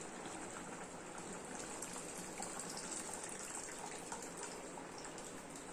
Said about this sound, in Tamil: இப்போ நம்ம புளி ஊற்றிக்கலாம்.